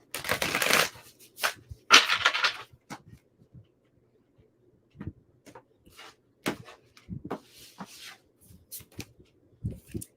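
Cards riffle and slap together in a couple of quick bursts, followed by scattered soft taps and flicks as they are handled, with no talking.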